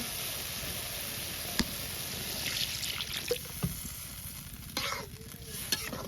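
A Bengali curry sizzles and is stirred in a pan as water is added, steady frying hiss with a few clinks and a brief gurgle near the end, no talk.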